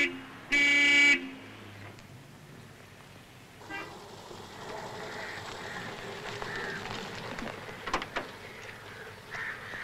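A car in a 1970 Bombay street scene honks once loudly, then its engine rumbles as it pulls away, with a low, rising roar under busy street noise and a few faint knocks.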